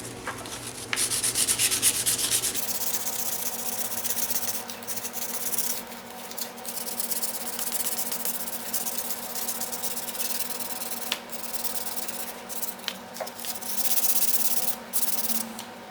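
A repaired motorcycle cowl being hand sanded with 600-grit sandpaper after putty repair, giving a continuous close rasping rub with rhythmic back-and-forth strokes, no talking.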